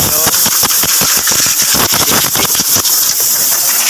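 A Toyota Vios engine idles steadily up close during a maintenance check, its rapid rhythmic chugging loud and even throughout.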